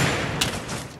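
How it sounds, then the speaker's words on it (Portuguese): Gunfire in a competitive battle-royale shooter match, with a steady wash of shots and one sharper report standing out briefly in a one-second burst. "Tô tomando tiro aí de trás."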